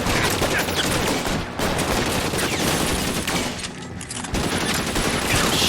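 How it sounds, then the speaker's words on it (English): Tommy gun fire in the L.A. Noire video game rattles in long, dense bursts, loud and close, with brief gaps between volleys and a busy game mix behind. "What, he's got like a Tommy gun?"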